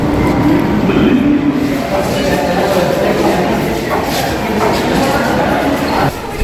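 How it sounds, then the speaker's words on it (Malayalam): A Delhi Metro train rumbles loudly and continuously at close range, a dense, steady roar with people talking over it. "അപ്പോൾ അങ്ങോട്ടേക്ക് പോകാൻ വേണ്ടിയിട്ട് മെട്രോയിൽ കയറാൻ വേണ്ടി വന്നതാണ്"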